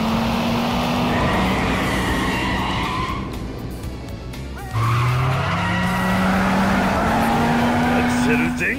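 A taxi drifting in Yakuza 5, loud sustained tire squeal and engine roar over the whole stretch, with skidding pitch sweeps and a brief dip midway, while a voice speaks over it.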